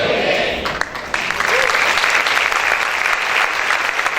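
Church congregation applauding for the Lord during a Spanish-language sermon, a dense sustained wash of many hands clapping that swells after a brief dip and continues strongly, with a voice faintly present underneath.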